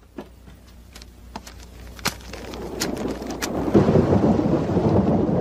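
Heavy rain with rolling thunder in a wuxia martial-arts film scene, several sharp cracks early on, then a steady, louder downpour building toward the end with no voices.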